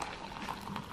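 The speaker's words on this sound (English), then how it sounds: "So you add hot water in." Hot water is poured into a colour-changing Starbucks cup, making a brief, close, bubbling pour that lasts about a second with no voices over it.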